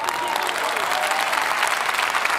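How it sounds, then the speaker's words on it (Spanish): A preacher clapping for himself during a Christian sermon: dense, continuous hand clapping with the wash of applause, loud and close, holding steady for a couple of seconds. "si nadie más aplaude, no me importa, yo me aplaudo"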